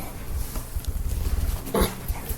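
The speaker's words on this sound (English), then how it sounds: "they're big dogs, and they love to play" Big dogs playing together, with low growly rumbles, soft whimpers and scuffling close by, plus a brief sharper yelp near the end.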